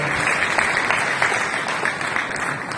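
Applause at a Marathi film event: a steady wash of clapping from an audience, fairly dense and sustained for a few seconds, with a faint voice under it.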